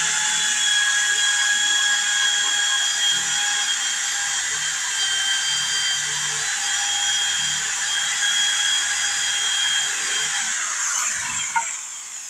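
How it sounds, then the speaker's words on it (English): A drill bores steadily into wood with a 5/16 masonry bit, a continuous high whine held for about eleven seconds, close and loud, easing off near the end with a brief knock. "We're going to bore it. But now this is a 5/16 masonry bit. And we're going to bore that wood."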